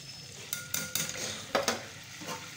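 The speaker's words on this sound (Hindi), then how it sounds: "बेसन को डाल के भूनना है" Gram flour (besan) stirred and roasted in warm ghee in a pan for barfi: soft scraping strokes of a spoon over a low sizzle, a few distinct scrapes, close, with no voices.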